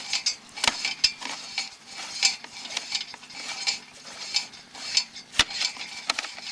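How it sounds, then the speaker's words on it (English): Sewer inspection camera cable being fed down a cast iron vent pipe, a steady scraping, rattling metallic rub with irregular clicks and ticks, close and moderately loud, with no talking. "We're going to go ahead and drop our camera on in there"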